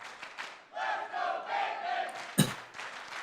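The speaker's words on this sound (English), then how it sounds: "The crowd starting to fall in the favor of Ben" The crowd at a Schmoedown movie trivia event cheers and chants in rising and falling waves, with a sharp clap or thud near the end, moderately loud.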